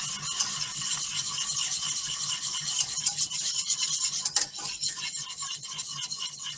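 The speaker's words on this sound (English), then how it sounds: "keep on stirring with the whisk and it will turn into a smoother sauce" A whisk scrapes and swishes steadily through thickening cheese sauce in a pan, a continuous close rasping rhythm of fast strokes with an occasional metallic knock.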